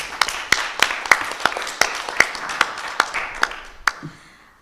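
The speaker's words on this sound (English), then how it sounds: "You can give them a round of applause." Applause at a legal awards ceremony, a small group clapping in an uneven rhythm of distinct sharp claps, close and moderately loud, fading out at the end.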